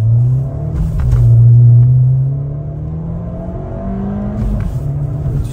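A car engine drones steadily on a drive along a winding road, its low hum swelling and easing as the revs shift, close and continuous with no talking.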